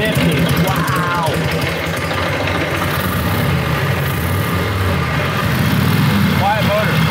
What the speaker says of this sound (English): Quiet motor. Quiet.